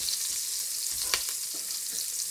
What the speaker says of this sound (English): now I'm going to put the carrots and the onions in its place